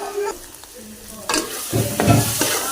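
Grated carrots roasting in ghee for carrot halwa, a steady sizzle broken by scraping spoon strokes against the pan, louder bursts of stirring toward the end, no talking.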